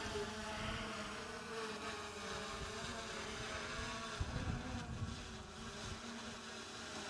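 A DJI Lito X1 drone buzzes steadily as it takes off and climbs, a faint, high, insect-like propeller hum lasting throughout.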